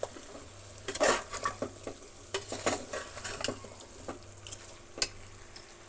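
Stirring yogurt into vegetable egg pulao in a pan, a soft scraping stir with light sizzling and occasional clinks of a spoon against the pan, close and fairly quiet, no voices.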